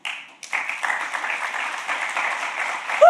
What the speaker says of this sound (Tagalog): Ang ating palakpak para sa Diyos.